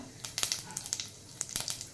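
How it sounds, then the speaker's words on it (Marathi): Sharp, irregular crackles and pops, like seeds spluttering in hot oil, burst out in quick clusters over a low steady hiss. "मोहरी व जिरा चांगलं तडतडून द्या"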